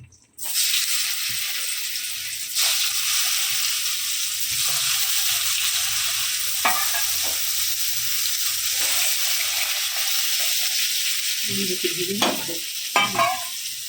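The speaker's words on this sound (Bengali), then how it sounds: "এবার আমি নেব আলুগুলোকে ভেজে নেব" Potatoes frying in hot oil, a loud continuous sizzle that begins abruptly and holds steady, broken by occasional stirring scrapes and a few knocks near the end.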